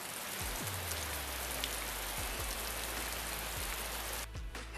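Heavy rain pours as a dense, steady hiss, with a few low thuds scattered through it, loud and continuous until it thins abruptly near the end.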